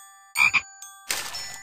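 Cartoon frogs croak in a Curious George children's video game, a couple of short bright croaks followed by a longer, breathier croak, close and clean with no talking.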